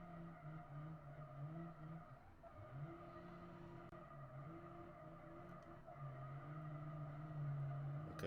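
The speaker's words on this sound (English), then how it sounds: "Okay, it's drifting a little bit." Tires squeal steadily as a tuned ETK 900 series sedan drifts in BeamNG, a long wavering screech over a humming engine that rises and falls, fairly quiet and with no talking.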